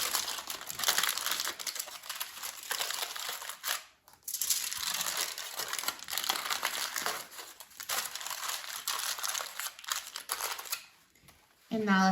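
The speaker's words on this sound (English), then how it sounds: "And then I will close the foil over the salmon." Aluminum foil is crinkled and folded closed over a salmon fillet, giving near, continuous rustling and crumpling with a couple of brief pauses, while a person talks.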